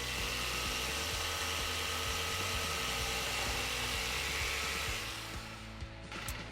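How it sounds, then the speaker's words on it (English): A handheld power saw cutting through PVC sprinkler pipe, a steady high-pitched whining drone that holds for several seconds before easing off near the end, loud and close with no talking. "what about a quick cut in a PVC pipe to repair a sprinkler system in your yard?"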